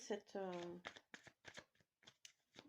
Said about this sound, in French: Je tirerais bien une autre carte, tiens.